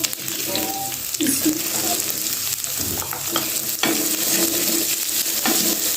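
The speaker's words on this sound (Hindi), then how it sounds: "प्याज को तकरीबन मैं 1 मिनट तक फ्राई करूँगी।" A medium-sized onion fries in a pan while being stirred: a continuous sizzle with repeated spatula scrapes and clinks, close up and moderately loud, with no talking.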